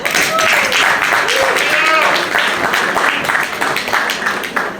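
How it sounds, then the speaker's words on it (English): Applause at a community center Eid gathering in Brooklyn comes as scattered clapping from the audience, mixed with loud voices and chatter throughout. "please give her a round of applause for Shazia Bibi."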